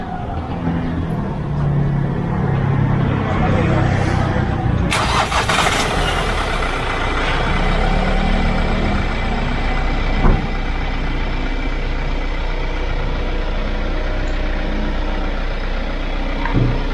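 A car engine cranks and roars to life after a battery jump start, loud and close, then settles into a steady rumbling idle with a brief click partway through.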